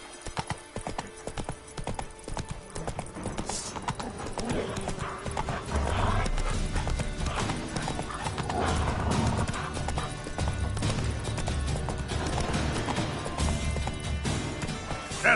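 Roach the horse gallops in The Witcher 3 on PS5, hoofbeats pounding in a fast, rolling rhythm that grows heavier and louder partway through, with a brief whinny near the start and no talking.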